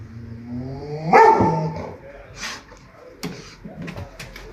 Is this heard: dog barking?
yes